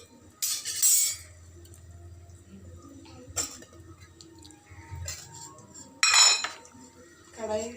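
A metal kadai set down on a home kitchen stove while preparing a Kerala kappa dish gives a few sharp metallic clanks and clinks, spaced apart over a quiet background.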